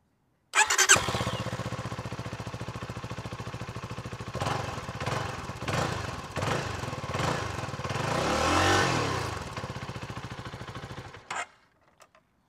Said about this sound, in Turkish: Şimdi size motorun egzozunu dinletmek istiyorum.